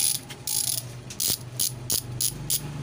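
A Koozer bicycle freehub, fitted with new ratchet teeth, clicks loudly in fast buzzing bursts as the wheel spins, close up with brief pauses between spins and no talking.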